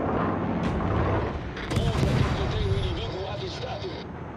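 Heavy naval cannon salvo booms in the warship game World of Warships, dense rumbling blasts with a trailing roar, heard under a man's speech.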